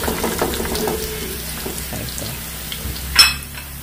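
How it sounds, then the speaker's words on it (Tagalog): Garlic sautés in a pan as the first step of pork salpikaw, with soft crackling and sizzling plus faint stirring scrapes, ending in a brief sharp clatter. "Gigisa na tayo ng bawang."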